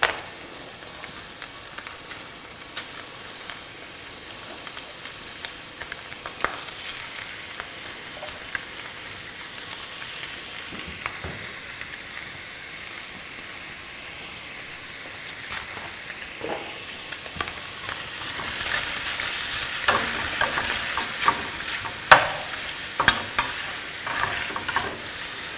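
Hamburger sizzles and crackles steadily in butter in a pan, with scattered stirring clicks and scrapes, growing louder and more spattery toward the end, no voices.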